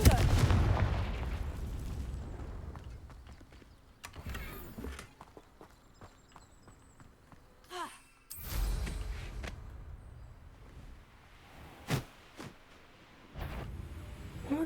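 Confringo fire spells explode in the Hogwarts Legacy video game, several sharp booming blasts at irregular intervals with quieter crackling and footstep-like sounds between them.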